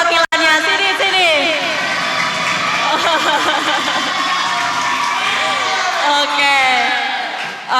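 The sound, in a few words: audience applause and cheering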